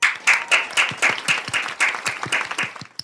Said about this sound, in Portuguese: Palmas para nós de novo.